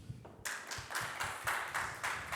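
A conference audience greets a speaker with applause that starts after a brief quiet moment, then swells into regular, rhythmic clapping pulses, with no talk over it.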